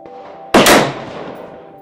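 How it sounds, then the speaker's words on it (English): A single loud gunshot cracks out at a 100 yard tin can shooting range, a sharp burst followed by a rolling echo that fades slowly. "Yeah, good shooting."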